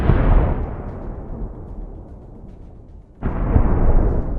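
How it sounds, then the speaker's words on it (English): A tank struck by a drone explodes in a heavy, booming blast that rolls off into a long rumbling decay, followed by a second loud burst about three seconds later. No voices are heard. "An explosion of incredible force."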